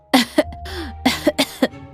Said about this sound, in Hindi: अम्मा खांसते हुए कहती है